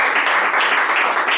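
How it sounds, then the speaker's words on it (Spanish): Applause from a live audience welcoming the guests of a talk event about Dead Kennedys and Lou Reed, a dense, steady wash of clapping that fills the whole short moment with no talk over it. "un aplauso entonces para nuestros invitados de hoy."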